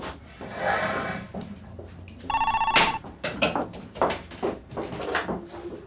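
A telephone bell rings in a short burst amid indoor household sounds of movement and a door, fairly close and clear.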